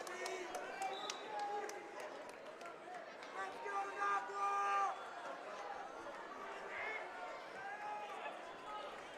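A busy crowd murmurs and chatters throughout a high school varsity boys wrestling dual meet in a gym, with overlapping voices and scattered shouts forming a continuous, moderately distant babble.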